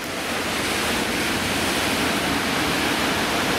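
Sea waves breaking on the shore at Sochi make a steady, loud, broadband rushing roar that fills the whole stretch without a break.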